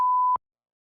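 A single steady electronic censor tone runs for about a third of a second and then cuts off abruptly into silence, covering a spoken name.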